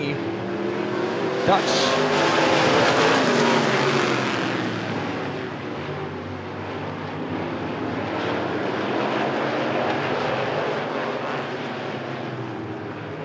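Race cars in a bracket heat at Rockford Speedway, a roar of engines swelling and fading as the field circles the oval, loud throughout, with an announcer talking over it.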